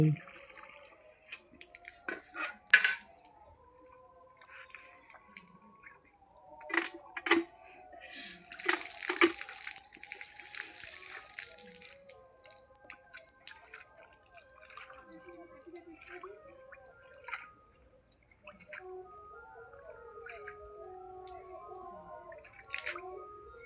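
Water being drawn up by hand outdoors, scattered splashes, drips and sloshing in bursts, with a louder watery rush around the middle, while faint voices and birds are heard in the background.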